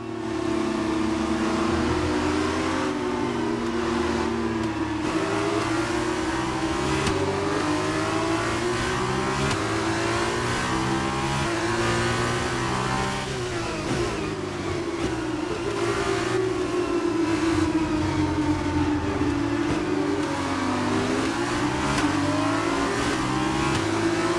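An F2 race car in F1 22 at Sakhir, its engine screaming close and loud as it revs up through the gears, pitch climbing and dropping with each shift over a continuous roar.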